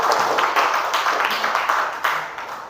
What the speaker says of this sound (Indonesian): silakan berikan tepuk tangannya, Nak.